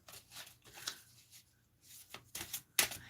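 A deck of cards being shuffled during a live stream, with repeated riffling bursts and a sharp final snap, close and fairly quiet, with no talk over it.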